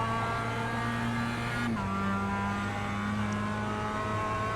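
A Mazda MX-5 Cup race car engine in the iRacing simulator at Lime Rock Park holds a steady buzzing drone, then its pitch drops abruptly partway through before holding steady again. No one speaks.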